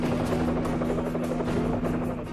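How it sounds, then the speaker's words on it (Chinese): A rescue helicopter flies through a snowstorm in sub-zero cold, its rotor giving a loud, steady, close throbbing drone with constant wind-like wash and no voices. "第二架直升机紧急增援"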